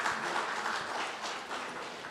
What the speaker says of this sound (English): A big round of applause for ICMA.